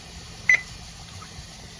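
A kitchen timer gives one short, clear electronic beep as it is set while home-canning jars heat, then only quiet room background remains.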